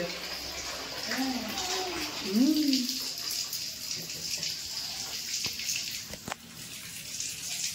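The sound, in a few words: water running from tap at bath time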